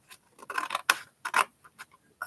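Scissors snip along the lines of a sheet of paper being prepared for a small handmade paper box, giving a series of short, crisp, irregular cuts close by with brief pauses between them.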